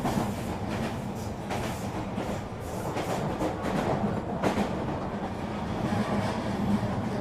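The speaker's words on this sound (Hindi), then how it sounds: "तो यहाँ पर हमारी ट्रेन भी चलना शुरू हो गई थी" Green Line business-class train leaving a Karachi station, heard from a private cabin as a steady rumble with rhythmic clickety-clack of wheels over rail joints, fairly loud and continuous, no speech.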